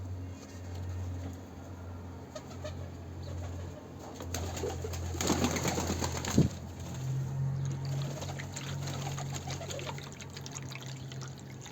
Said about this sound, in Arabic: تعالوا نشرب الحمام.